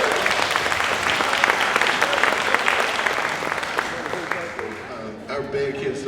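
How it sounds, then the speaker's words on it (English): Warm audience applause at a talk with an elderly speaker, a dense, sustained wash of clapping that stays loud and then thins slightly toward the end. "Thank you for the great applause."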